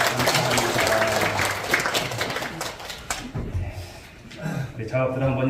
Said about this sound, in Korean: 우리 감사와 영광의 박수를 하나님께 올려드리겠습니다.